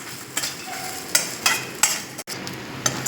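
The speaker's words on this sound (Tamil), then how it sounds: "நம்ம மசாலா பொருளெல்லாம் கலர் மாறி வர வரைக்கும் நல்லா லோ ஃப்ளேமில் வச்சு வதக்கிக்கணும்" Masala spices sautéing slowly over a low flame for a Chettinad mutton gravy, a soft continuous sizzle broken by a few brief scrapes and stirs of the pan, close and calm, with no talk.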